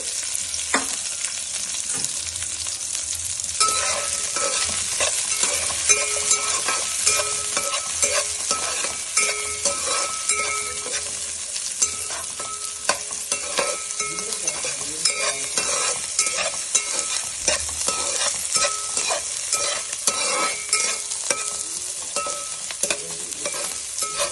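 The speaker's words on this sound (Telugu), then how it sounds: "కొద్దిగా ఆయిల్ వేసి ఆనియన్ ఫ్రై చేయాలి ఫస్ట్" Onions fry in oil in a kadai for an Andhra-style fish curry, giving a loud, steady sizzle throughout with frequent scraping and stirring clatter from a spoon against the pan.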